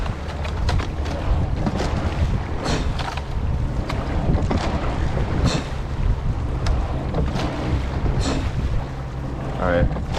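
Wind gusts across a rowing boat out among the buoys, a steady low roaring rumble buffeting the microphone, with a few soft knocks and splashes over the top.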